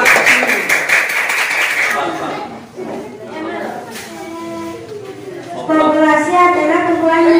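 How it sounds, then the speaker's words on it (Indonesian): A primary school class breaks into brief group clapping that quickly fades into a teacher talking, with more scattered claps and chatter returning near the end. "Tepuk tangan lagi."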